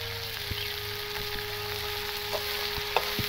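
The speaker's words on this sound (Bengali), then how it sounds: "এরপর আমি ভালো করে কষিয়ে নেব" Green chillies, turmeric and chilli powder stir-fry in a pan for a vegetarian yogurt eggplant dish, giving a steady close sizzle with occasional soft scraping stirs and a faint background hum.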